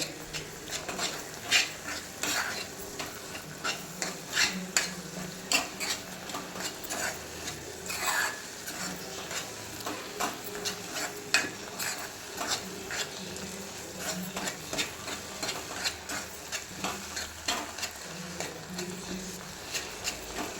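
A spoon stirs and scrapes a thick tomato and tamarind pickle paste in a pan, with repeated rhythmic scraping strokes against the metal and a faint sizzle beneath.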